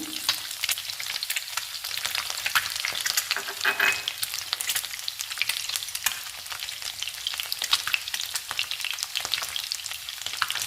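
Curry leaves dropped into hot oil with chopped boiled egg for a spicy egg curry crackle and sizzle loudly and continuously, with bursts of spattering and stirring throughout.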